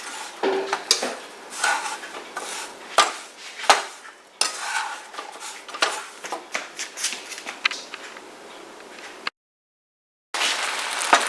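Pineapple turnover filling caramelizes in a pan under continuous stirring, with a spoon scraping and tapping irregularly over a soft sizzle, up close, then a short silence before the scraping resumes.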